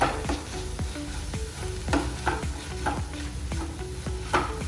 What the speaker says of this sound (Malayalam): ഇനി നമുക്ക് നന്നായിട്ടൊന്ന് മിക്സ് ചെയ്ത് കൊടുക്കാം കേട്ടോ.